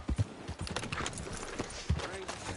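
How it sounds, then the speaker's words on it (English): Horse hooves clip-clop in the video game Red Dead Redemption 2, a close, quick irregular run of hoof knocks over a low background of ambient noise. "Just look at that horse."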